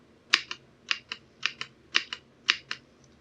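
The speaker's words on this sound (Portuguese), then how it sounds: "A gente tem o teclado aqui, beleza? Como eu falei, um switch amarelo." Yellow switches on an AJAZZ AK820 75% mechanical keyboard click under deliberate presses, about ten crisp, close keystrokes in pairs, each press followed by its release, in a quiet room.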